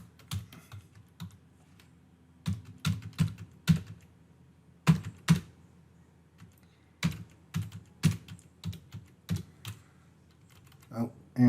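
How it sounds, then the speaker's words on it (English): Typing on a computer keyboard while entering data in an Excel spreadsheet, a run of sharp, close key clicks in irregular bursts with short pauses, no talking. "So I'm going to type in A,"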